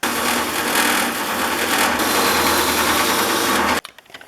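A loud, steady grinding whir of a wire wheel cleaning parts of a Stanley No. 6 fore plane, continuous for several seconds before cutting off abruptly near the end.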